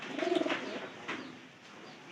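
Pigeons coo in a soft, low burble, a short rounded call near the start followed by quieter, fainter cooing over steady background noise.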